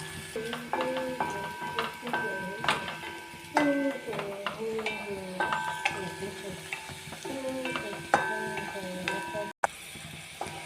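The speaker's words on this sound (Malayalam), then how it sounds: "നമുക്ക് വഴന്ന് വരണ വരെ നമുക്ക് ഇത് ഇളക്കി കൊടുക്കാം" Chinese potato (koorka) curry being stirred and fried in a pan: a quiet, continuous sizzle with repeated light clinks and scrapes of a spoon against the metal, close up and without talk.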